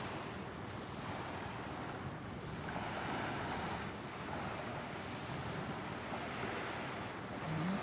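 Sea waves wash steadily beside a seaside restaurant at a naval hydrographic station in Hua Hin, a soft continuous surf rumble mixed with wind noise, with no voices.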